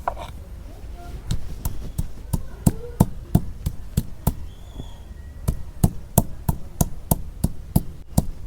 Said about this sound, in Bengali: আদা বাইডা নেই।